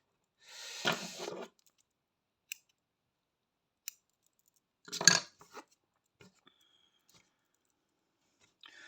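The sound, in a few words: scissors cutting during cross-stitch work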